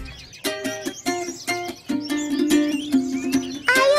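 A songbird sings loud, complete phrases of sharp chirps and trills in quick bursts, close and bright, with a brief sustained warble in the middle.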